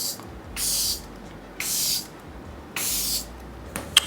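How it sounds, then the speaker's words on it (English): Charlotte Tilbury makeup setting spray misted onto a face, three separate hissing bursts of about half a second each, close and fairly loud, with a small tap at the end. "I'm gonna go back into the Charlotte Tilbury spray"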